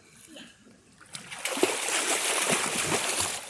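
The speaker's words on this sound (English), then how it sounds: "I'm gonna do a front flip on the water." A nine-year-old boy's front flip into water lands with a sudden splash after a quiet lead-in, followed by sustained sloshing and spray that stays loud and close.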